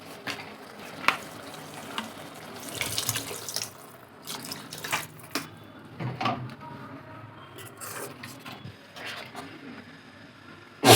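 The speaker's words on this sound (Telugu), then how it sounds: "కొంచెం వాటర్ యాడ్ చేద్దాం." Water is poured into an egg and drumstick curry in a pan on the stove, a brief splashing pour with faint sizzling and stirring scrapes, uneven bursts close by and no talk.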